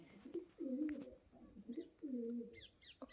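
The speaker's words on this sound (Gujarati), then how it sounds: "અને આ બધા કબૂતર બેઠા હે" Several pigeons coo in low, rolling phrases, overlapping one another, with a few brief higher chirps near the end.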